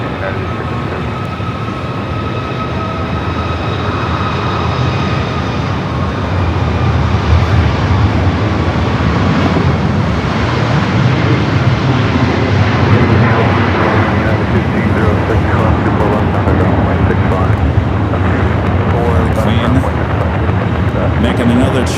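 An airliner takes off at Los Angeles LAX, a loud continuous engine roar that swells and holds steady for about twenty seconds, with no voices heard.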